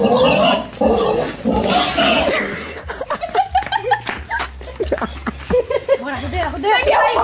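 A grandmother's sow grunts loudly and repeatedly while a boy rides her at home, mixed with laughter and people shouting and talking nearby.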